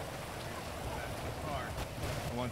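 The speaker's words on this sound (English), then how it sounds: "And it's raining." Rain falls in a roleplay game scene, a faint, steady hiss of drops on surfaces heard beneath people talking.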